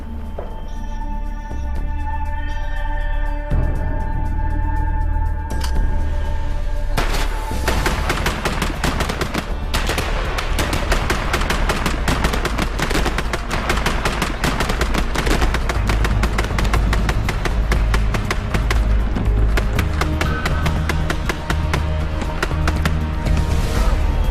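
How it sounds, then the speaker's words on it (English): A Gatling gun fires rapid bursts alongside rifle volleys at a firing demonstration, a dense, loud, continuous barrage of cracks and reports rolling on without pause. "The Gatling gun reloads, and volley fire from the rifles brings them back into contention."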